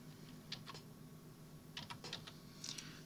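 Keyboard typing while entering text into a field in Inkscape: a few short bursts of quick key clicks separated by pauses, faint and close, over a low steady hum.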